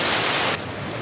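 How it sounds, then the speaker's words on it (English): A small moorland waterfall on Blackden Moor rushes with a loud, steady broadband hiss, close and unbroken, dropping abruptly in level halfway through. "Quite a cool little waterfall. It's quite loud, so sorry for the hiss."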